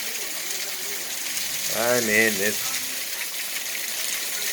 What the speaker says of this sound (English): look at that water falling